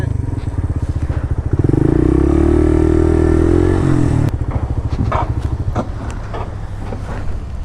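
A Suzuki RV125 motorcycle engine idles and revs steadily up close at a ferry terminal, with clattering thumps and occasional knocks over a continuous low drone.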